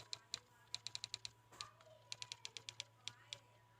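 Rapid keyboard typing sound effect used in a KineMaster video edit: crisp clicky keystrokes in quick bursts, about twenty taps with short pauses between groups, faint overall over a low steady hum.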